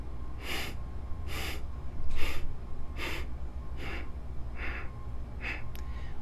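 Segmented exhaling during Kundalini yoga breath practice: about eight short, sharp breath pulses out through the nose, evenly spaced and close, with a faint background hum and no talking.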